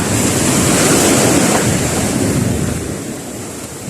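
Big sea waves in murky water during fishing, a loud continuous roar of surf with wind buffeting the microphone, swelling and then easing slightly toward the end.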